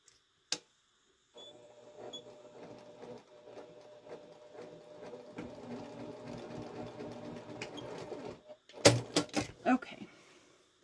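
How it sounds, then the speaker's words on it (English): A sewing machine stitches a fabric triangle pouch, its needle running in a steady rapid whir for several seconds at close range, with a sharp click beforehand and a few knocks and rustles as it stops. "not sewing to the bottom of the bag or the other part of the bag"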